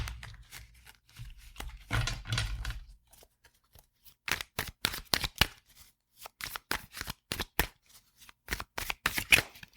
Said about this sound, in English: Okay, gonna do a little shuffle.